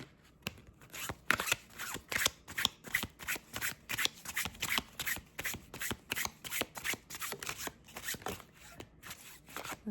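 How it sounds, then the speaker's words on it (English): A deck of oracle cards is shuffled by hand, a rapid run of crisp riffling slaps and flutters, close and fairly quiet, repeating steadily for about ten seconds. "first I'm going to pull up some cards from this love pop deck"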